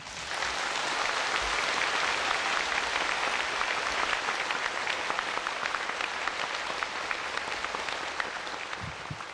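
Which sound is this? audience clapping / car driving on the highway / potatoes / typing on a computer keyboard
audience clapping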